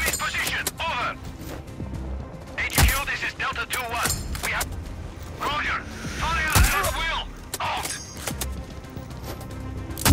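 Sniper rifle shots ring out in Sniper Ghost Warrior Contracts 2 gameplay: several sharp, loud cracks spread irregularly across the span, over game sound effects and someone speaking Polish.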